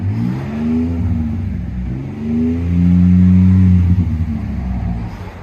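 Cabin of a 2012 Ford F-150 with a 3.5L EcoBoost V6 and Borla Pro-XS dual exhaust, the engine revving in steady swells to a limited 3,500 rpm; a deep, smooth drone, moderately loud and continuous, with no talk.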